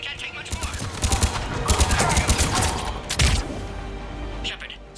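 Gunfire in the video game Mass Effect 3: rapid bursts of shots and impacts crackle over a few seconds amid combat noise, tapering off near the end.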